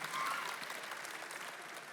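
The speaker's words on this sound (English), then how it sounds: "clap for that" An audience breaks into applause, steady and fairly faint, with dense clapping that tapers slightly over two seconds.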